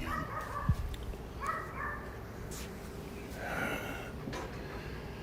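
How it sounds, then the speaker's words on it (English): A dog barks and yaps a few times in short bursts at moderate distance, mixed with background noise and faint rustling. "That's the third barking dog this week."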